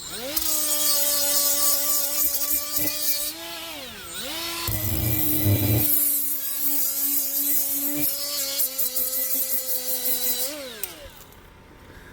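A Milwaukee M12 right-angle die grinder whines at high speed while cleaning a surface. Its pitch sags and recovers as it bears down, it cuts out briefly midway and spins up again, then winds down near the end.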